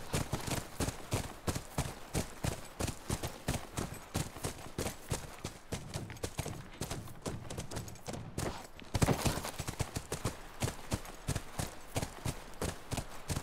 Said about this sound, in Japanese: 見ろ、牧場だ。 馬がいる。